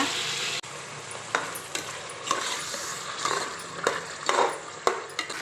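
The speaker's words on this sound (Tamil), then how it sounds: "இப்போ நம்ம அரைச்சி வச்சுருக்கோம் இல்லைங்களா இதை சேர்த்து நல்லா வதக்கலாங்க" Ground paste stirred into vegetables sautéing in hot oil for a rice dish, a steady close sizzle broken by a few soft scraping stirs of a spoon in the pan.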